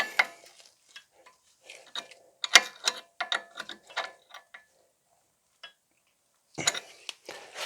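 A ratchet wrench clicks in short bursts while tightening a front brake hose fitting on a BMW E66 740Li, with a few quick runs of crisp clicks separated by pauses.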